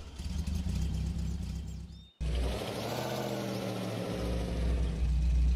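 A GAZ-34 engine runs steadily in Spin Tires, a low droning hum that cuts out for a moment and then resumes with a rising, revving tone, loud and continuous with no talk.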